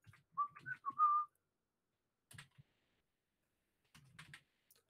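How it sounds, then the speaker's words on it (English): Computer keyboard keys tap in two short scattered bursts, soft and close, after someone briefly whistles a few notes at the start. "we type on the right keyboard"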